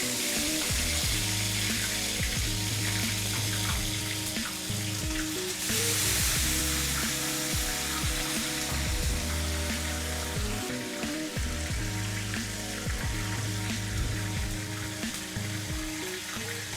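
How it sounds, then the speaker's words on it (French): Fish frying in very hot oil gives a loud, steady sizzle and crackle that holds for the whole stretch, with occasional clinks and stirring in a kitchen. "Là, nous passons l'étape friture. Nous prenons le poisson, nous mettons de l'huile bien chaude."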